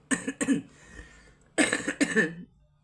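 Two clusters of harsh, close coughs, a pair near the start and a longer fit of two or three after a short pause.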